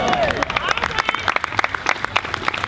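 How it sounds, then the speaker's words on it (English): An outdoor rally crowd claps and applauds, a dense burst of many hands close by with scattered cheering and voices mixed in, fading slightly by the end. "I appreciate you clapping because nobody believed me."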